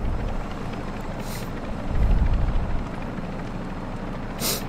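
An enemy helicopter in the Warzone 2 DMZ video game drones steadily at mid distance, a continuous rumbling rotor hum that swells slightly midway, with no talk over it.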